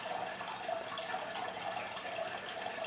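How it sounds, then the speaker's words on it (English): A loud aquarium filter pours water continuously into a fish tank, a steady close rushing splash that holds evenly throughout with no pauses. "The fish tank has this loud filter that pours water continuously into the tank"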